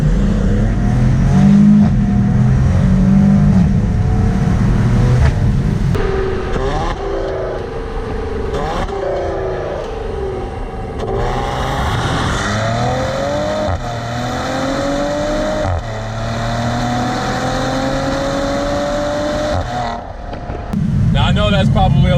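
A 2019 Maserati Quattroporte Granlusso S accelerates after a downshift with the window down, its engine note climbing through several rising sweeps alongside steady wind noise, heard from inside the cabin.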